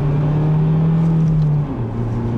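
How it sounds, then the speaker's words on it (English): A 2013 Ford Focus with a manual gearbox gives a steady, fairly loud engine hum while driving. Its tone holds level, then drops slightly as if in a gear change, heard alone from inside the car. "there is a little bit of positive engine noise."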